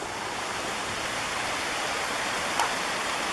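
Creek water rushes steadily beneath the Trail Creek railway trestle, a dense, even broadband wash with no pauses, close and fairly loud, holding constant for a few seconds with a faint brief tick near the end.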